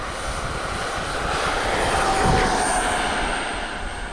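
An F-14 aircraft takes off from an airport with a loud, continuous engine roar that swells slightly in the middle and holds steady, with no speech.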